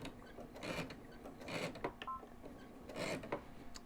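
A sewing machine stitching backwards while binding a quilt: quiet, short mechanical whirring bursts with clicking, stopping and starting several times, heard faintly up close.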